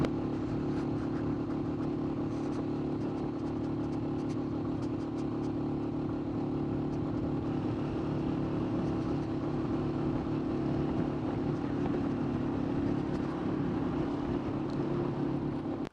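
A motorcycle rides at high altitude near Khunjerab Pass, its engine a steady low droning hum with constant wind rush running unbroken for the whole stretch.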